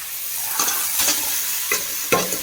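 Grated papaya is stirred and fried in a pan, a steady close sizzle broken by several scraping strokes of a spatula, with no one talking.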